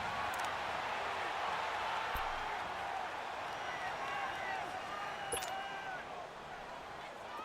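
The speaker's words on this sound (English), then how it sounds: "The crowd here in the Dome making things difficult." Steady roar of a stadium crowd inside a domed arena during a Madden NFL 19 Patriots versus Saints game, a dense continuous wash of cheering and babble with a few faint sharp accents.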